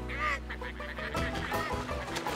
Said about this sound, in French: Les canards n'ont pas du tout besoin d'un abri. Ils adorent être dehors sous la pluie.